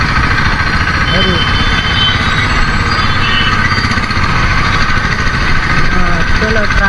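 A tractor engine runs on a road with a loud, steady chugging drone and vibration. Voices talk over it throughout.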